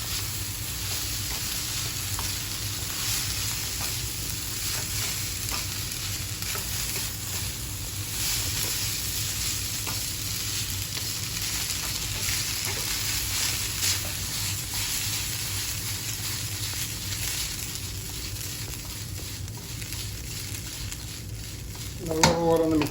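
Noodles and chicken being stir-fried in a pan, with a steady, continuous sizzle running throughout and a few brief stirring clatters near the end.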